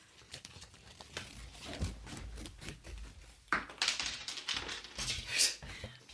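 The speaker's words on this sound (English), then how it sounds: "there's like change floor and all over the couch. It's like coming out of my pockets." Loose change coins drop out of pockets in a quiet ASMR setting, giving a few soft, close metallic clinks among faint rustling and light handling sounds, with hushed talk.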